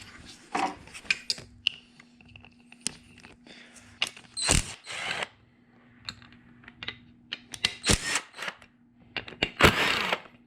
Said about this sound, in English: Now all we have to do is undo these two bolts and that sensor will come off.